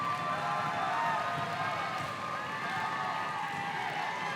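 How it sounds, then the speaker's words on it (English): A basketball crowd at a girls' national final on their feet cheering in the closing seconds, a dense continuous roar of many voices with a steady level and no break. "Crowd's on their feet."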